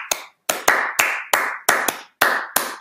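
Hand clapping in a rhythmic routine by a group sitting in a circle, about ten sharp, close claps in a syncopated pattern with irregular accents and brief gaps, with no voices.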